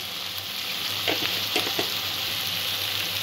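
Ground spices with turmeric, coriander, cumin and chili powder sizzle in a hot pan for chicken bhorta, a steady close frying hiss with a few brief clinks of stirring, and no voices.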